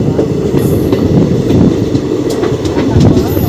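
Tebhaga Express running on ICF coaches along the Balurghat to Kolkata line, a loud, steady roar of wheels on track with faint clickety-clack and brief high squeals, heard from on board.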